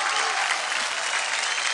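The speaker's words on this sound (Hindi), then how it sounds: "जोरदार तालियां।" A studio audience at a children's singing competition show breaks into steady, dense applause that fills the whole short stretch at an even, loud level.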